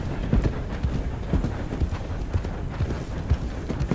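Horse hooves clip-clopping in Red Dead Redemption 2, an even trotting beat heard close and fairly loud, with no talk.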